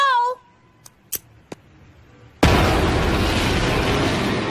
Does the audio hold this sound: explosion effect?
yes